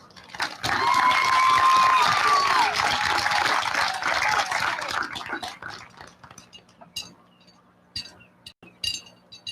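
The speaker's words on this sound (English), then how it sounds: "Let's give Lauren a round of applause." A crowd at a high school graduation ceremony breaks into loud applause and cheering with a few whoops, which swells quickly, then tapers to scattered claps and occasional shouts.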